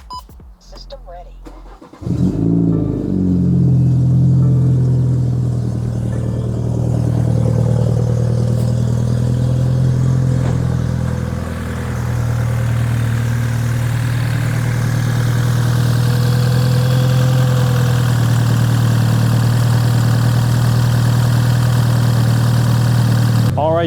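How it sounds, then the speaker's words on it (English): A BMW F30 with the B48 engine cranks and starts after new spark plugs and ignition coils, then settles into a smooth, steady idle, a close continuous hum with a slight dip midway. "As you can hear, the car is idling fine."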